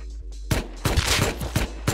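Gunfire in the survival game Rust: a quick string of sharp shots, roughly five or six cracks in under two seconds, close and punchy over a low background hum.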